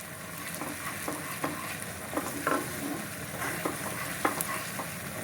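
A spoon stirs a hot sweet mixture of motichur laddu batter in a pan, giving soft intermittent scrapes and clicks over a steady low sizzle, close and fairly quiet with no talking.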